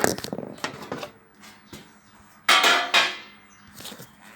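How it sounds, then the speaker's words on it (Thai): Metallic clanks and scrapes of the metal cover being taken off a vintage Victor JA-S41 amplifier, a few irregular close knocks with one loud clatter midway, someone talking briefly at the start. "เดี๋ยวผมจะเปิดฝาเครื่องให้ดูนะครับ"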